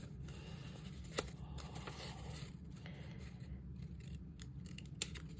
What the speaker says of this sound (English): Going to snip that piece off.